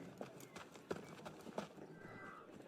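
A horse and carriage in the video game Assassin's Creed Unity clip-clop faintly, a few distinct hoof strikes over a soft background hum.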